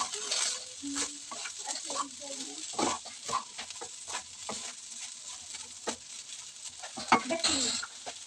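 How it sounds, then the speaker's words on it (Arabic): Potatoes fry and crackle in a hot pan at close range for a crustless, meatless quiche, with a steady sizzle, a few pops and occasional stirring scrapes, and no voice over it. "البطاطا راه بدات كتحمر، هذا دليل على انها بدات كطيب"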